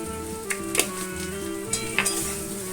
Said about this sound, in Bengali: হলুদ গুঁড়ো লঙ্কা গুঁড়ো জিরে ধনে আদা রসুন বাটা লবণটা দিয়ে দিয়েছি দিয়ে ভালো করে কষিয়ে নেবো